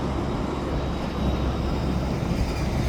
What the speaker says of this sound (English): One locomotive needs a little bit repainting there.